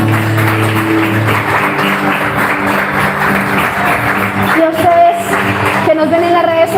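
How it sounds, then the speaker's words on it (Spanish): A church congregation at Peniel Church in Cali claps and applauds together, a loud, sustained wash of hands under music, with a voice rising briefly near the end. "Dele una ofrenda de palmas al Santo."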